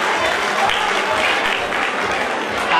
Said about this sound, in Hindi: Please put your hands together for this children. एक बार जोरदार तालियां